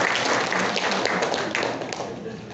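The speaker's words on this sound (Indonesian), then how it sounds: "Tepuk tangan dulu untuk kita." Applause from an audience at a regional women's organisations congress in Merauke, a dense, steady wash of clapping that fills the room and tapers slightly toward the end.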